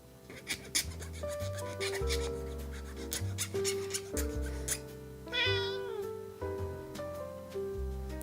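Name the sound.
pet cat meowing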